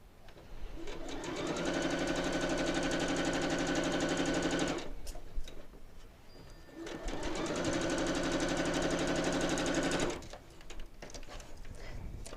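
A sewing machine stitching quilt block pieces for a double disappearing nine patch, running in two long close steady bursts of about four seconds each, separated by a pause with light handling sounds.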